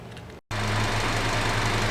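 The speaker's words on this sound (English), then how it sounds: "Okay, so the engine's been running now for probably 10 minutes." A 2012 Honda Civic engine idling after warming up for about ten minutes, a steady low hum with a faint rhythmic pulse, running alone after a brief cut near the start.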